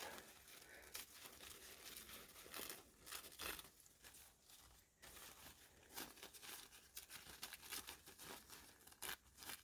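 A journal page being torn in half by hand, a faint dry ripping and crinkling of paper that continues in uneven bursts, quiet and close.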